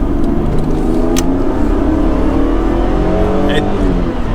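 A Nissan Skyline R33 GTS accelerates hard from low in second gear, its engine note climbing steadily and loudly from inside the car with no break, with road and cabin noise underneath.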